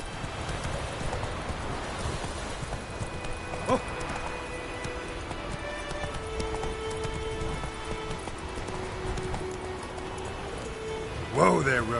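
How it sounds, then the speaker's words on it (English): Hoofbeats of a horse galloping in The Witcher video game on PS4, a steady clip-clop rhythm running under wind and ambient game sound, with a louder burst near the end. "Whoa there, Roach"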